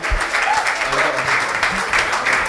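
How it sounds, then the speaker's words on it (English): Audience at a performance event applauding Piper Don, a thick continuous burst of clapping filling the space, fairly loud, with voices mixed in beneath. "Let's give him a round of applause."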